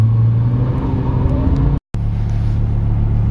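Lexus LFA sports car engine revving loudly and close, a sustained strong drone that cuts out for an instant, then resumes at a steady pitch.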